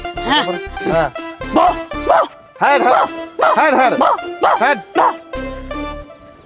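A voice imitates a dog, giving a string of loud yelping barks and whimpers in uneven bursts, close to the listener.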